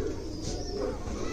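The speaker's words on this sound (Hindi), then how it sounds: "कबूतर है भाई" Pigeons cooing softly in a low, throaty murmur over a noisy background, close by.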